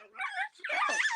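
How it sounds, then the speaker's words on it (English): Dogs fighting at home, sharp yelps and whining snarls in quick overlapping bursts, close and loud, mixed with some vocal sound that may be a voice. "my dogs are fighting"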